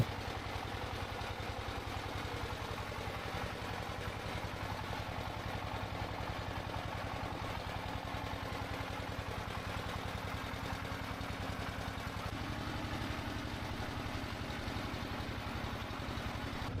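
A motorboat engine drones steadily and loudly for the whole stretch on a river boat trip toward Sada Pathor at Bholaganj, Sylhet, a continuous mid-pitched rumble with no voices.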